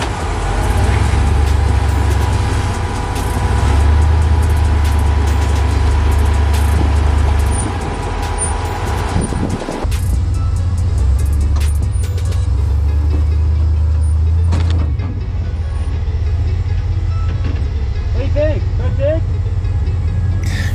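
A 4x4 rock crawler works its engine back and forth while climbing a rock ledge off-road near Grand Junction, Colorado, a loud steady drone with surging revs throughout, with voices talking over it.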